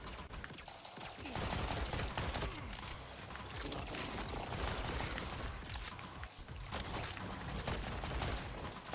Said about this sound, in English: recoil on this gun is pretty terrible.